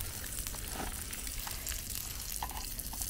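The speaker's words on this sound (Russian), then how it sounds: "Шкварчит? Да, кольцо шкварчит." A ring sausage sizzles and spits in a very large frying pan outdoors, a steady close crackling hiss with scattered pops throughout and no talking.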